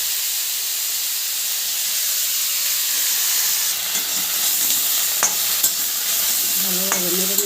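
Homemade spice powder fries in oil in a pan, with beans, potato and tomato waiting for a fish dish. It gives a steady, loud, close sizzle and hiss, with a few stirring clinks and scrapes near the end.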